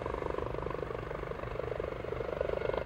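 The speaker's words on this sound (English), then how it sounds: "And the helicopter comes back around." An HH-65A Dolphin search and rescue helicopter flies steadily overhead at moderate distance, its rotor chop and turbine whine a constant drone.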